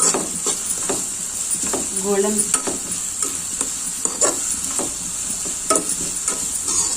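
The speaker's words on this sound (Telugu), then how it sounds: "ఇట్లా ఆనియన్స్ అండ్ పచ్చిమిర్చి ఫ్రై చేసుకోవాలి." Onions and green chillies frying in hot oil give a steady close sizzle, with repeated scraping stirs of a spatula through the pan and a brief murmur of talk partway through.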